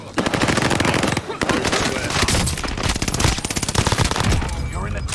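Rapid bursts of automatic gunfire fill a video game match, loud and dense, with a voice speaking briefly over the shooting.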